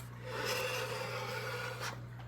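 A vintage British motorcycle wheel spins with a soft rasping whir and is slowed by pulling the brake handle, giving a brief scraping rub before it stops, quiet and close.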